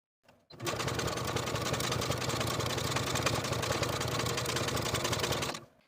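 A sewing machine runs steadily for about five seconds, edge stitching alongside the placket seam of a dress, with a dense, even mechanical whir that starts and stops cleanly and stays close and fairly loud.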